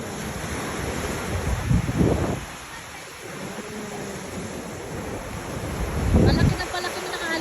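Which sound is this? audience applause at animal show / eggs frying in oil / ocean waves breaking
ocean waves breaking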